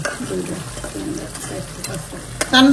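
Fish frying in a pan makes a steady sizzle as it is stirred, with clanking utensils and a louder burst of scraping right at the end.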